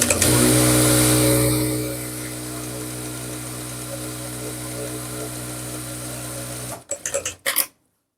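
Juki industrial sewing machine running steadily with a loud, even motor whir that eases slightly after a couple of seconds, then cuts off, followed by a few short clattering knocks at the end.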